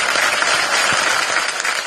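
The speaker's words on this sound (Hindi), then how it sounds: "मैं आप सबके लिए मैं चाहूंगा कि आप खुद अपने लिए जोरदार ताली बजाएं" A large audience at a Filmfare award show claps steadily in a dense, continuous wash of applause, loud and unbroken from start to finish.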